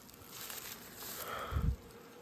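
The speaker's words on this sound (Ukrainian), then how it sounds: "Це молода бджола облетілася, та не може дорогу додому знайти." A young honeybee, lost and unable to find its way home, hums softly and continuously nearby, its buzz swelling briefly louder as it passes close, with faint outdoor rustle beneath.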